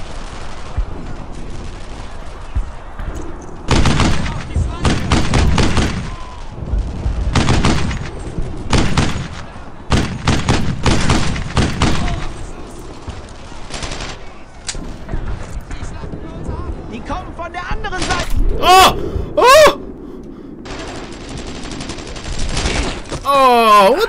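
Dense bursts of rifle and machine-gun fire, with heavy booms, come from a World War II firefight in the video game Brothers in Arms: Earned in Blood. The shooting is loud and rapid, alternating with short lulls, and shouted voices break through in places.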